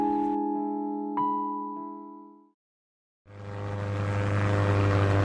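A Dakota propeller aeroplane drones with a steady tonal engine hum, cuts out briefly, then returns as a louder, broader roar, close and sustained, with no talk.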